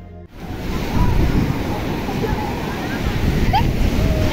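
Sea waves wash onto a beach in a steady, broadband roar of surf with wind noise, close and continuous after a brief quiet start.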